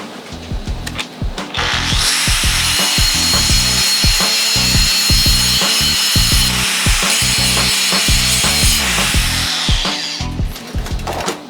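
3M abrasive on a power tool grinding down a weld, a loud continuous high-pitched grinding whine over rhythmic thumping, close, easing off near the end.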